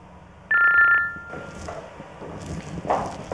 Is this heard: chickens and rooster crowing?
no